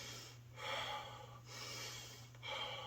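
Close, deep breaths drawn in through the nose during a breathwork exercise, three airy inhales in steady succession, soft and breathy with no speech.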